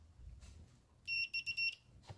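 A multimeter sounds its continuity beep while probing a faulty hair straightener's circuit board, a short series of clear, high electronic tones, three bursts in quick succession over quiet handling noise.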